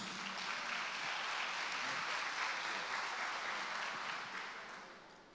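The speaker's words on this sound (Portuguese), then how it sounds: "Vamos dar um aplauso ao Senhor pela vida do apóstolo Edmilson" A church congregation applauds together for the Lord at a service, a dense, steady wash of clapping that holds evenly for several seconds before thinning and fading toward the end.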